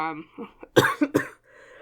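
A single person coughs a few times in short, loud bursts close to the microphone, following a moment of speech and a throat clear.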